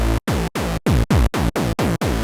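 An unprocessed neuro Reese bass patch from the Vital synth plays as nine rapid, evenly spaced stabs, each a loud, buzzy, harmonically rich bass note with a sharp attack and a quick downward filter sweep, with no voice.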